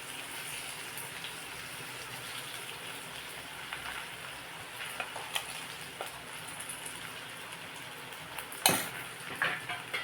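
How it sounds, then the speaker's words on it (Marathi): Okra coated with ground masala paste being stirred in a pan, quiet continuous scraping with faint sizzling and a sharp clink of utensil on metal near the end, close and without talk. "आता हलवून घ्यायचं व्यवस्थित"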